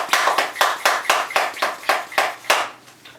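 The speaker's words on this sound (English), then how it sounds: "is spraying the moss so that it's damp" A spray bottle misting dry moss around repotted orchids: about ten sharp, close hissing squirts in a quick steady rhythm, each pump loud and even.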